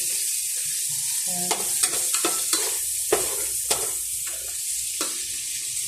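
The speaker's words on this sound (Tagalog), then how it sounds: "Medyo ipapry lang natin ng konti." Boiled pork frying and being stirred in a pan for a Filipino squash and string bean sauté, a steady close sizzle broken by a series of sharp scraping stirs of the spatula.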